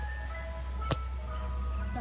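A Mister Softee ice cream truck's jingle plays on a street in the evening, a steady tinkling melody heard from a short distance with a brief sharp click partway through.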